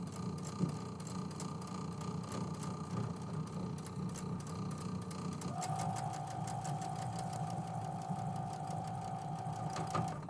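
A sewing machine stitches steadily and loudly through a quilting session, its whirring drive changing pitch partway as the bobbin thread runs out, with no talk.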